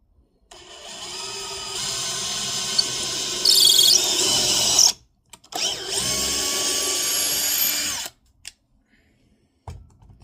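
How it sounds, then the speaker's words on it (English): A Craftsman power drill bores into wood for a bluebird house. Two sustained, loud whirring runs are separated by a brief stop, followed by a few short trigger blips and then quiet. "Craftsman drills come in handy."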